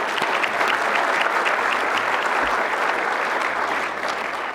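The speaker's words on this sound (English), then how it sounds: "let's give it up for a round of applause for them as well" A dense, steady round of applause fills a banquet room at a university baseball leadoff dinner, continuing loudly throughout with no talk over it.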